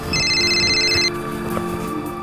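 A telephone rings with a bright, trilling electronic tone for about a second, then cuts off, leaving a steady low background hum and drone.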